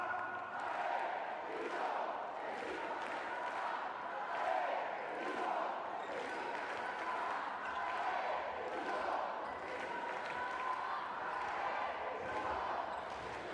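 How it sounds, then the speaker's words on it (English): An arena crowd at a Basketball Champions League game between JDA Dijon and Neptunas Klaipeda keeps up a constant roar of cheering, with a commentator talking over it the whole time. "Crowd are getting into this one, and rightly so."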